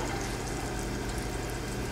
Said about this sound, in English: You can hear that sizzle as it hits the pan.